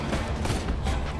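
Rapid bursts of gunfire and booms fill a busy Borderlands 2 firefight around a sniper rifle shot, dense and continuous over about a second with no clear single crack.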